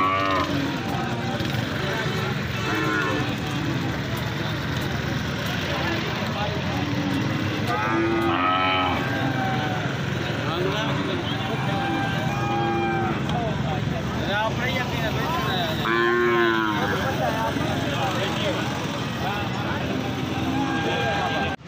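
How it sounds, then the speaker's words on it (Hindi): Buffaloes at a cattle market in Dera Ghazi Khan low repeatedly, several long moos rising out of a loud, steady crowd din, with people talking throughout. "और इस साइड पे ये देखिए माशाल्लाह भैंसें देखिए भाईजान।"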